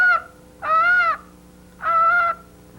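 Hawaiian mud hen giving two drawn-out nasal honking calls, close and clear against a quiet background, each about half a second long.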